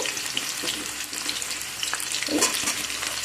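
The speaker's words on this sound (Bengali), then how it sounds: "এবার এই তেলের মধ্যে একে একে আমি সব সবজিগুলো দিয়ে দেব প্রথমে দেব আলু" Potatoes frying in oil and being stirred in a pan, a close, constant hiss of sizzling with scattered crackles and a louder burst of spattering near the end.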